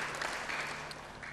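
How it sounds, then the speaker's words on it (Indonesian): Brief burst of applause from a church congregation during a sermon, dense and moderately quiet, lasting just over a second. "Beri tepuk tangan yang baik bagi dia."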